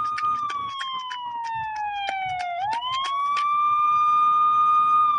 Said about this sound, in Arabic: صوت إسعاف